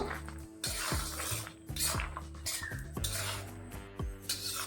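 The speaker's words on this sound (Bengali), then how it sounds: "এবার লো ফ্লেমে বাদামগুলোকে একটু ভেজে নেব" Cashews and almonds, about fifty grams each, tossed in a pan over a low flame, giving a run of close metallic clinks, rattles and scrapes from the pan and spoon, no talking.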